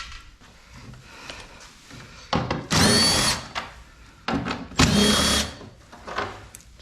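A power tool whirs in two loud bursts near the middle as it backs bolts out of an Arctic Cat Trail side-by-side being stripped for engine removal, with quieter handling clatter before and after.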